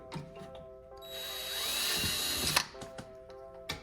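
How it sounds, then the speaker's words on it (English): A power drill whines up and runs for about a second and a half boring through a Subaru VB WRX front bumper for a carbon fiber lip, with small knocks and clatter before and after. "So just drill that hole."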